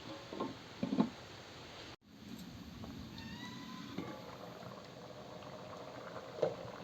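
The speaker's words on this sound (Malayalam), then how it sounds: "നന്നായി തിളക്കിയുണ്ട് കേട്ടോ" A pot of Kerala white chickpea curry (kadala curry) simmers quietly with soft bubbling and occasional pops, a faint continuous cooking sound with a brief clatter partway through.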